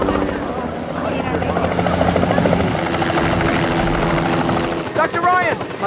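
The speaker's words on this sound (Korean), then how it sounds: "그런데 그때 그곳에 헬기가 등장하고" A helicopter arrives with a continuous rotor drone and engine whine, loud and close throughout, while voices talk over it in a dramatic action scene.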